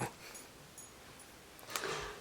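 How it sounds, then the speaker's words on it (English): A puppy sniffs in short snorty bursts and gives faint whimpers indoors, close by and quiet against a still room. "A puppy."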